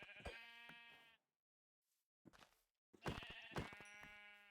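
Sheep bleating in a video game, two loud, harmonic bleats separated by a short silence and a brief softer call, close and clear.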